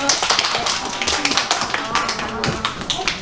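Audience clapping on request at a children's bee-themed drama play session, a dense patter of many hands in a room, with taps and some voices mixed in throughout.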